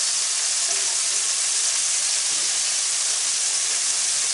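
Burger patties sizzle in a hot pan just after being flipped, a loud, steady, broad hiss that holds without a break, close up with no talking.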